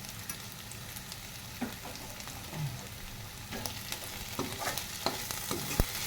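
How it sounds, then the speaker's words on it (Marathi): Onion for paneer bhurji fries and is stirred in a pan, giving a faint, steady sizzle with occasional soft scrapes and clinks of the spoon close by. "तर आता बघू शकता कांदा आपला छान भाजला आहे"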